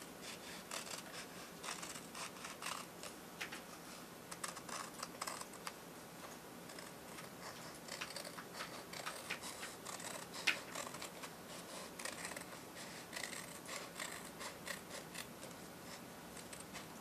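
Scissors cutting origami paper along a diagonal, a continuous run of crisp close snips and rustles at low level, no voices.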